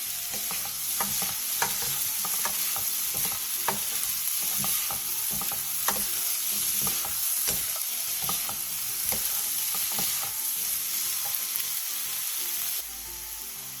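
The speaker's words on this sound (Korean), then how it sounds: "대파를 넣고 골고루 어우러질 정도로만 볶아주세요." Green onions stir-fried in a pan for a home side dish, a steady crackling sizzle with frequent scraping and tossing clicks from the spatula, close and continuous with no voices.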